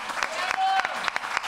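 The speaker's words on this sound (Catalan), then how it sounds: "Un fort aplaudiment per a Marta!" An audience at a Catalan comedy show's awards programme applauds, a burst of clapping with a voice speaking over it, scattered claps standing out briefly.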